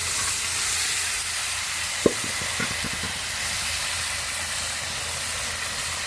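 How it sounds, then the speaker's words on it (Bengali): Fish and potol curry simmers and bubbles in a pan, giving a steady broad hiss and sizzle with a few soft pops near the middle, heard close and continuous with no talking. "টগর বগর করে জাল হচ্ছে মাছ ভুনা।"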